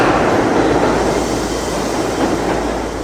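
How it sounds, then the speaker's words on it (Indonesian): An underground train runs loud and steady, a dense roaring rumble with faint rattling of the carriages and no pauses throughout. "Secepat mungkin, ia menumpang kereta api bawah tanah."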